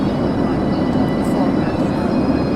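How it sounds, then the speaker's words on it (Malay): Passenger aircraft cabin in flight: a steady, loud, broadband roar of engine and air noise holds evenly throughout, with no distinct events. "kita orang dalam kapal terbang"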